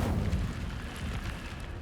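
Incendio fire spell blast in the video game Hogwarts Legacy, a short rumbling burst of flame with a dense, boomy roar that fades over about two seconds.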